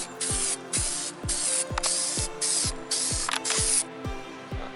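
A spray can lays down a second coat of gray primer in several long, steady hissing bursts with brief gaps, close and fairly loud, while a regular mechanical ticking runs underneath.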